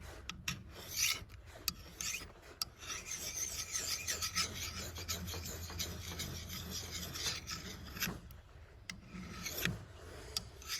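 Kukri blade rubbed in circles on a jade whetstone pendant, a close, quiet rasping scrape that runs steadily with brief pauses and small clicks.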